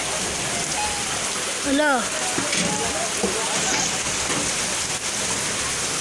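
Steady heavy rain pours down during a flood, a dense continuous hiss of water close by, with a voice speaking briefly over it.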